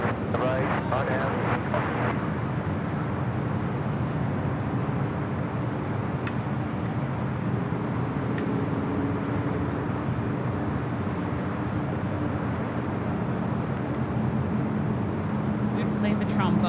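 A Southwest Airlines jet takes off from runway 25 right at LAX, its engines a steady, loud, broad roar filling the whole stretch with a faint rising whine, while people talk over it near the start.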